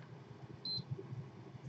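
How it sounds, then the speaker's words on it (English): A second-generation PS4 console with board model SAB-001, under repair for a faulty ethernet and Southbridge problem, gives one short, clear electronic beep over a steady low background hum. "we've got nothing but a beep coming out."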